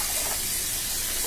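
Tap water sprays steadily over vegetables being rinsed in a kitchen sink, a loud continuous close hiss with no pauses or voices.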